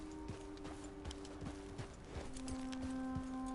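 Horse hooves clip-clopping over hilly ground in Red Dead Redemption 2, a steady run of single thuds about half a second apart, close and clear over a low game ambience with no talk.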